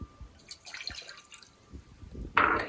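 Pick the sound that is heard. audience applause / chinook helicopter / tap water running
tap water running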